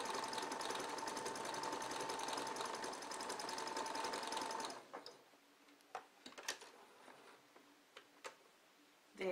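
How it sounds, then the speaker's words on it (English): A home sewing machine running decorative stitches whirs continuously and close for about five seconds, then stops, leaving scattered faint clicks and taps. "So I've used my sewing machine and the different decorative stitches I can embellish on top of the stitching"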